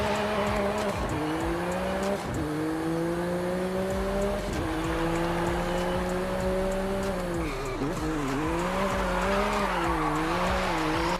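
A McLaren Artura in the racing game Forza Horizon 5 holds a steady, loud engine drone with its pitch stepping up through gear changes and dipping between them. Tire squeal and road noise run underneath throughout, with no talking.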